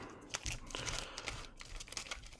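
Playing cards being shuffled by hand for a tabletop version of Balatro, a soft crinkly riffle and flutter of card edges, close and fairly quiet, with a few sharper snaps.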